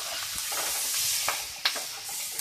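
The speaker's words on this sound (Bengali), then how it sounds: "এরপর আমি কেটে রাখা কাঁচামরিচ দিয়ে ভালোভাবে নেড়ে চেড়ে নেব" Chopped green chillies stir-fried with a hilsa fish head in a pan: a steady hissing sizzle with scattered scraping and stirring clicks, close and moderately loud, no talking.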